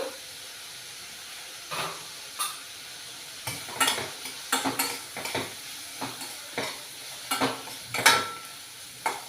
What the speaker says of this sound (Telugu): ఒక నిమిషం పాటు ఇలా వేయించుకోవాలి